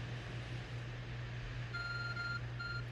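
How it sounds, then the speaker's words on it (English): The Arc Phone in the game Pokemon Legends Arceus chimes a short message notification, two brief bright beeps sounding softly over a steady low hum of game ambience. "Finally got another message from the Arc phone after a while."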